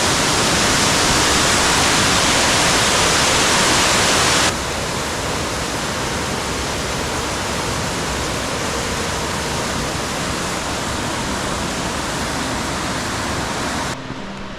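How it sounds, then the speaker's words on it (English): Laurel Falls in the Great Smoky Mountains roars as a steady, dense wash of falling water, close and loud throughout with no voices, its level dropping slightly partway through. "How cool is this waterfall?"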